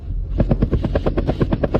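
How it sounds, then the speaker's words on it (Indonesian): Helicopter flying over the city of Jiangzhou, a steady rhythmic rotor thudding with fast, regular blade chops over a low engine rumble, fairly close and loud. "Helikopter yang bisa terbang di atas Jiangzhou."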